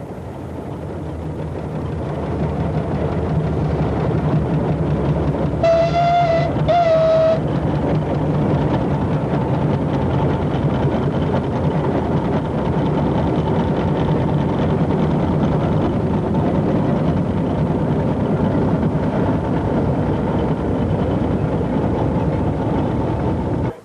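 A Clayton compound steam engine runs with a loud, steady, continuous rumble and chugging, close by and sustained throughout, with a short high whistle-like tone partway through.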